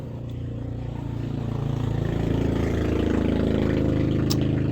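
A motorcycle engine idles steadily nearby in an outdoor setting, a continuous low rumble that holds even and grows slightly louder over a few seconds.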